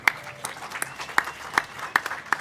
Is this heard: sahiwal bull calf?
no